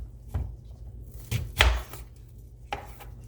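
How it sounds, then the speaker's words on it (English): A knife cuts through a Vidalia onion on a board, trimming off its ends, making four separate, crisp chops spaced irregularly, close and clear with no one talking. "Next, we're going to go ahead and cut our onion. And this is a Vidalia onion"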